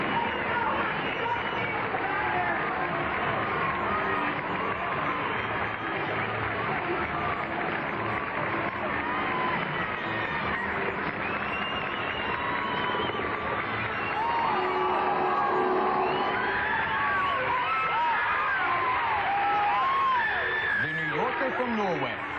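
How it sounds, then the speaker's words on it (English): A big 1986 New York City Marathon crowd cheers and whoops steadily for Grete Waitz's win, a dense continuous roar of voices with announcers talking over it throughout. "let's just bask for a moment in the crowd's response to Greta's victory"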